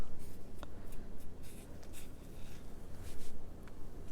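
A knife slicing rolled spinach, cilantro and garlic pasta dough into thin noodles, a soft rapid scraping and tapping against a board, close and continuous over a low background hum.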